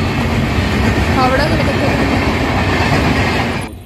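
A long Jammu Tawi passenger train rolls into an Indian railway station, a loud continuous rumble with clattering wheels and a brief squeal, close by, while people talk over it.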